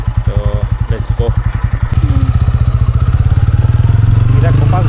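A motorcycle engine putters loudly nearby on a village road through fields, with a quick regular firing beat that steadies and rises into a continuous drone as the bike moves off.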